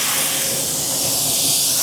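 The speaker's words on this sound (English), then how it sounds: "So I'm just gonna go ahead and spray." A paint spray gun lays down dark black metallic automotive paint, giving a loud, close, steady hiss of atomized spray that runs unbroken with no voices.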